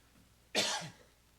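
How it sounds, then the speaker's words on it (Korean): A single short cough from a man pausing during a Wednesday church service sermon, one sharp burst heard close and alone against a quiet room. "제가 기침이 나와가지고"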